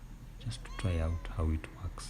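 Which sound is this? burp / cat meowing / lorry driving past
cat meowing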